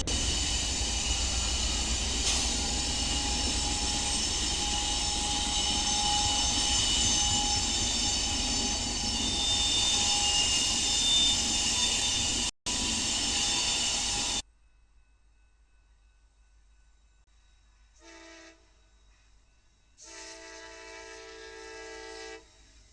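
Cotton Belt Railroad relic train rolling past in the rain, a loud steady rumble of wheels and cars for about fourteen seconds, then quieter, with a few faint horn-like tones afterward.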